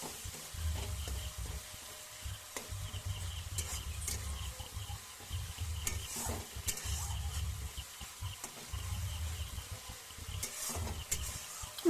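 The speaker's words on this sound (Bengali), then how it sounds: "আর একটু কষিয়ে নেব।" Spice paste with a little added water cooks down in oil for a rui fish curry with potato and brinjal, a soft crackling sizzle with occasional stirring taps and a low rumble, fairly quiet.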